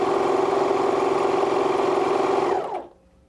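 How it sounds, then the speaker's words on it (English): A sewing machine stitching fabric for a baby garment, a loud steady motor whir and rapid needle patter running continuously for over two seconds, then winding down to a stop. "We'll reposition and then we'll begin sewing again."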